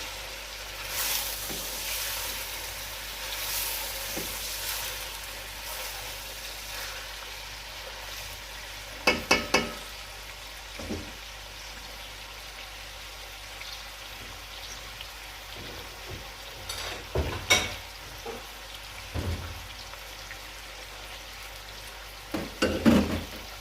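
Chicken frying with garlic in a pan gives a soft, steady sizzle close by, broken by occasional clinks and stirring scrapes of a utensil, with no talking.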